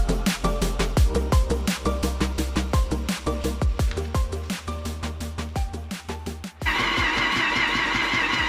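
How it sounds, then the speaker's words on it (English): A Mazda RX8 with a bridge-ported rotary engine cranks over on the starter to prime its fuel system, a rapid even chugging rhythm of loud pulses, then a steadier whirring drone for the final seconds, no voices. "we've turned the engine over for a minute or so that's primed it up"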